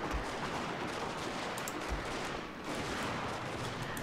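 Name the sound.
gunfire from troops in video game Fall of the Samurai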